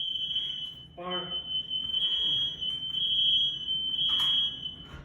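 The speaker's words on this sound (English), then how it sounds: "Yeah, I didn't need the fire drill. False alarm." A fire alarm sounds a steady, piercing high-pitched electronic tone continuously for several seconds, with someone talking over it and some background noise.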